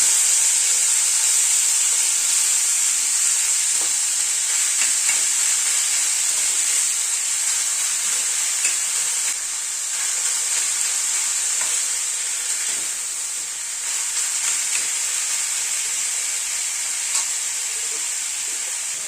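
Chopped banana stem sizzles loudly in hot oil tempered with black cumin, asafoetida and dried chilli, a bright steady frying hiss with occasional stirring scrapes and no talk.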